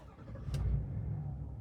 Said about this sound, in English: We can start up the truck.